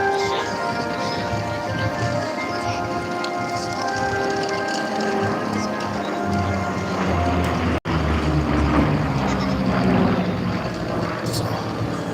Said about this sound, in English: Now this aircraft, operated by the Battle of Britain Memorial Flight